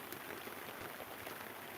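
Light rain falls on a farm pond as a soft, steady hiss of scattered drops, faint and even throughout with no talking.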